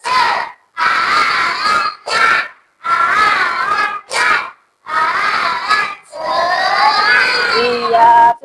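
Schoolchildren in a classroom shout a rhythmic 'tepuk semangat' clapping chant in loud unison bursts separated by short pauses, the chanted voices dominating with clapping mixed in.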